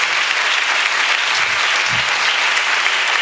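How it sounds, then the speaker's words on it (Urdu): Church congregation applauding for Saint Mary during a sermon, a dense, continuous wash of clapping that stays loud and even from start to finish, with a couple of low thumps partway through. "آئیں مقدسہ مریم کے لیے بھی زوردار تالیاں بجائیں گے"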